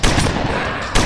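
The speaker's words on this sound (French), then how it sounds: "On va tirer, on tire." Gunfire at zombies in the Roblox Zombie Arena video game bursts loud and close, with sharp shots at the start and end framing a dense, rattling stretch of rapid fire.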